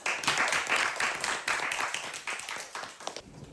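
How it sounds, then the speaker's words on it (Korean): Crowd applause fills the room as a speaker is welcomed onstage at a Korean storytelling lecture event, dense steady clapping sustained throughout and tapering slightly near the end. "강서연 명사님을 큰 박수로 맞이해주세요."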